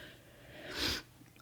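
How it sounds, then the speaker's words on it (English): A single short, breathy sneeze-like burst near the end of a quiet stretch, soft and close, followed by faint breathing. "I'm trying not to sneeze."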